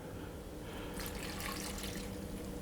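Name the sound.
brandy being poured onto dried fruit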